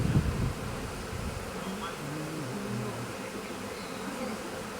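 A swarm of honeybees settled on the drawbar of a farm trailer gives off a steady, dense buzzing hum, continuous and close, with no pauses.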